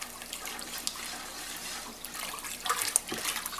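Sugar being stirred into a homemade wine cooler mix, a soft liquid swishing and trickling with a few light clinks, quiet and close, with no one speaking.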